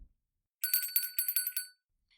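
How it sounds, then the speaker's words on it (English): A shop door bell jingles as a radio drama sound effect: a quick run of about eight bright metallic rings over roughly a second, close and clean against silence, with a faint extra tinkle at the end. "the bell above the door finally jingled."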